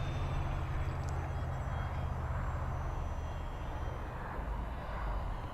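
A Freewing F-14 Tomcat RC model jet drones steadily on a slow landing approach, its engine noise a continuous low rumble mixed with wind across the whole span, with no talk over it.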